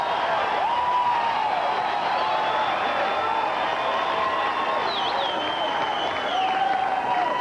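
A crowd at an outdoor beach volleyball final in Boulder in 1994 keeps up steady applause and cheering after a block, with a broadcast commentator talking over the continuous crowd noise.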